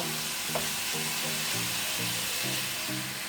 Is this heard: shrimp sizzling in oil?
yes